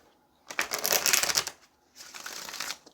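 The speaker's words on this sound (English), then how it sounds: "let's go ahead and get one more card. Or one more shuffle" Tarot cards shuffled by hand in two bursts, a riffling, papery rattle lasting about a second, then a short pause and a softer second shuffle, close and clear with no talk.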